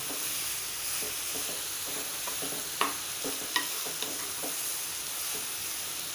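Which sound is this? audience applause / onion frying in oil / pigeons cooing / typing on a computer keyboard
onion frying in oil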